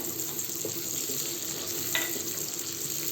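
Square-cut onions sizzle steadily in very hot oil in a kadhai, a continuous close frying hiss with faint stirring clinks, no one talking.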